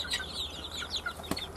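Six-week-old Indonesian village chickens cluck and chirp in short, scattered calls over a low background hum, fairly close but not loud.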